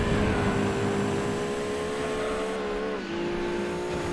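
Race car engine from Gran Turismo 2 holds a steady, loud drone through the lap, pitch easing down briefly near the end as it shifts, then settling again; no one talks.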